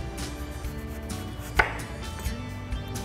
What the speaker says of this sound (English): and just slice downward here until you get to the core of the apple.